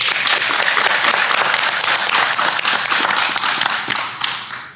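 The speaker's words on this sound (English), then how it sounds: "please join me once again in applauding all of our new Honor Society members" An audience applauds new National Honor Society members at a school ceremony, with dense, loud clapping that stays steady before tapering off slightly at the end.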